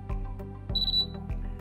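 A laser level receiver emits a short high electronic beep in the middle of a few soft clicks and handling knocks, heard close up and quiet with no talking.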